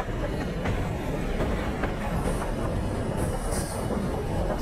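Goods train running in Microsoft Train Simulator, loud continuous rumble of wagons rolling on track with rhythmic clicks of wheels over rail joints and brief high squeals, no talking.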